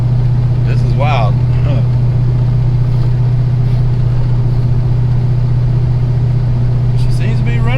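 A Ford Fox body car idles after sitting unused for months, its steady low engine drone close and constant beneath someone talking.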